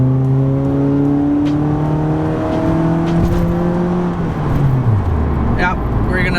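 A Nissan car engine revs up through gears, pitch climbing then dropping with each shift, heard from inside the vehicle at close range.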